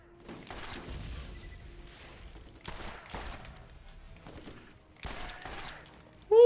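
Rapid gunfire in the video game Borderlands comes in several sharp bursts of shots separated by short gaps, fairly close and punchy, ending in a brief high-pitched electronic tone.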